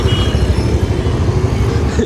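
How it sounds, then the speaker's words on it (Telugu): Morning road traffic on the Shalibanda route through Lal Darwaza in Hyderabad, a steady loud rumble of engines and tyres heard close up from within the flow, with no talk over it. "పొద్దున్నే షురు అయిపోయింది ట్రాఫిక్."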